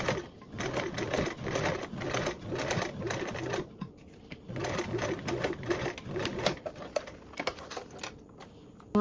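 A sewing machine top-stitches a seam with a 1/8 seam allowance on a compact craft project. It makes a rapid, even mechanical chatter in steady runs with short pauses, heard close and alone.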